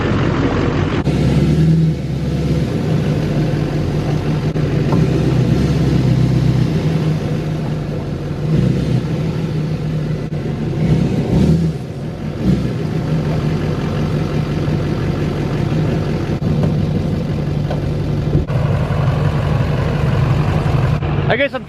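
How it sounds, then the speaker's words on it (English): A diesel 4x4 truck's engine rumbles steadily at idle with occasional light revs as the truck presses its front end down on soft yard ground. A voice talks over the engine throughout. "I'm trying to use the weight of the front end of the truck to push that ground down a little bit."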